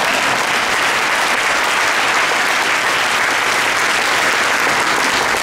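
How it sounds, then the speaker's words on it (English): An audience at an open mosque day event breaks into sustained applause, a dense, even wash of many hands clapping at steady loudness throughout, with no speech over it. "Yes, you can clap."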